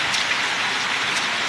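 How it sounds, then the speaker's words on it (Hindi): Heavy rain pours steadily during a spring storm in Bihar, a dense, even hiss of drops drumming on surfaces close by, with no voices. "कितनी बिंदास बारिश पड़ रही है।"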